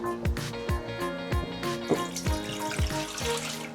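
Water poured into a saucepan for a cheap potato soup, a steady liquid splash in a kitchen with repeated low thuds and clinks, close and moderately loud with no talking.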